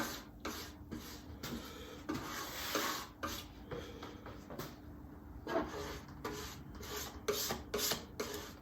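Z-Poxy epoxy being worked down into wood grain for grain filling, giving a steady, close scraping and rubbing texture in repeated uneven strokes with brief pauses, with no talk.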